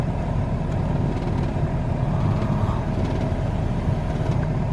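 Van engine rumbling as it pulls into a driveway, a steady close low drone of the motor with road and tire noise, no talking.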